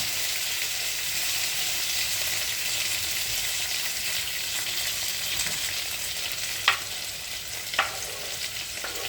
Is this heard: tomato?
yes